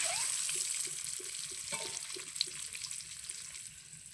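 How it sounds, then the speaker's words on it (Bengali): Shelled boiled eggs frying in hot oil give off a steady close sizzle and crackle, with faint stirring or scraping taps through it and no voices. "ডিম ছাড়ানো ডিম, তেলের মধ্যে দিয়ে দেবো। এটাকে আমি ভেজে নেবো ভালো করে লাল করে।"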